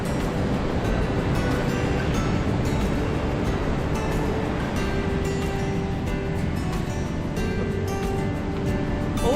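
Ocean waves breaking steadily in the shore break at Gunnamatta beach form a constant, loud roar of surf with wind, with no voices.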